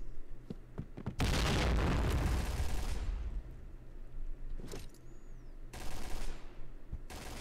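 A dense burst of rapid gunfire in the competitive shooter Point Blank roars close for about two seconds, followed by scattered single shots and softer distant bangs over game ambience.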